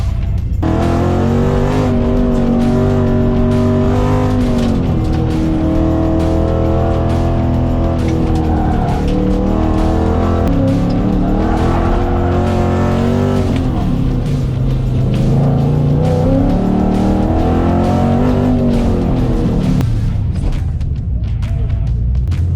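An autocross race car at an SCCA event runs the course with its engine loud and close, revving up and down continuously, while tires squeal through the corners until it winds down at the end.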